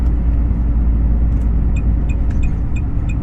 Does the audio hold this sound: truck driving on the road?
yes